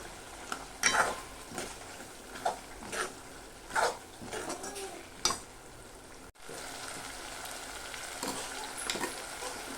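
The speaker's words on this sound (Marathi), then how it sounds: "आता याच्यातच आपण मटकी घालून घेऊया आणि पाच मिनटं परतायची आहे" Moth beans are stirred in hot oil in a pan, sizzling steadily while a spatula scrapes and clacks against the pan in irregular strokes, up close with no voices.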